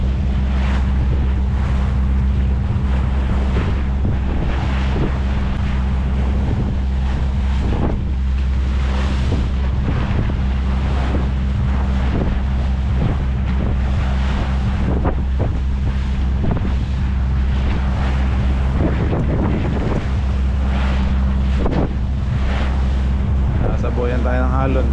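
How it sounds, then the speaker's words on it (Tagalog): Sea waves splashing against a fishing boat out at sea, steady engine drone under gusty wind buffeting the microphone and repeated wash and slap of water on the hull. "Saboyan tayo ng alon"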